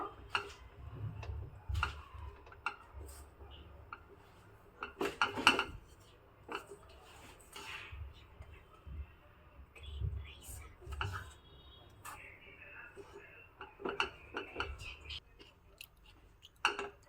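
Green pea rice with lemon juice being mixed in a pan, with soft scraping and clinking of a utensil against the metal in scattered bursts, close and fairly quiet, with faint background noise.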